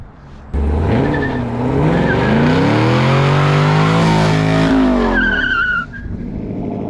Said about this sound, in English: Good little burnout coming.